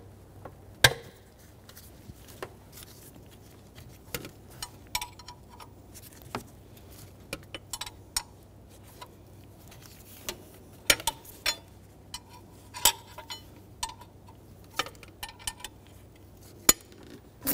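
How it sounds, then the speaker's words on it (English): A 14mm wrench loosening the drive belt tensioner bolt on a 4.0L V6 Nissan Frontier, sparse sharp metallic clicks and ticks at irregular intervals over a low quiet hum, with no voices. "14mm wrench. We're going to turn counterclockwise and break it free."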